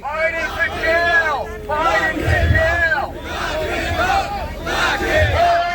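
A big crowd at a Trump rally in New York roars and shouts in repeated rhythmic waves, loud and close, like a chanted cheer with brief dips between bursts.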